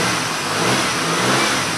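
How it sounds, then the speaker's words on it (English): A car engine revs hard while its injector signal is being checked on a diagnostic scope. The roar is loud, close and steady with a slight swell, and no voices are heard. "Look at it revving it up."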